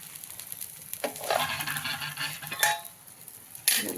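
Uttapam fries in oil in a covered pan, giving a steady crackling sizzle throughout with a few sharp bursts and light clinks of cookware.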